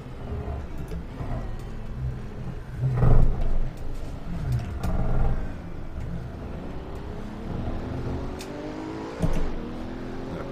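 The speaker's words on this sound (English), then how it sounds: "So a surprisingly tame sounding engine" A Maserati Alfieri or Pagani Huayra BC engine in Assetto Corsa, lapping Monza, hums at moderate level with a few rising rev swells and gear changes, fairly tame and steady.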